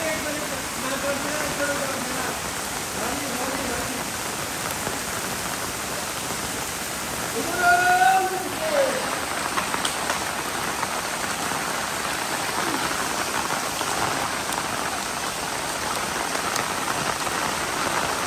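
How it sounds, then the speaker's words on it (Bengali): Heavy monsoon rain pours steadily in Chattogram, a dense continuous hiss on surfaces with a short burst of children's voices mid-clip. "বর্ষার বৃষ্টি আপনারা দেখতে পাচ্ছেন"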